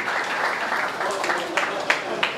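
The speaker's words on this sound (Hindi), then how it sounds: "तो एक बार ज़ोरदार तालियां बजाओगे उनकी।" A comedy show audience claps loudly and steadily, with a few sharper individual claps standing out near the end of the short burst.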